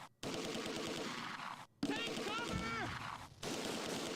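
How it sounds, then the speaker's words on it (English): German gunfire in the World War II strategy game Close Combat 2 crackles as a steady, dense rattle of distant small-arms shots, broken by brief silent gaps, with a voice talking over it midway. "Looks like the Germans are conserving ammo, although they're firing into our flank now."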